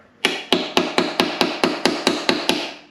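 Ten evenly spaced metallic hammer taps on a socket and extension, loosening a corroded oil level sensor on a BMW, ring out close up, a steady rhythm of sharp strikes with short decays and no talking.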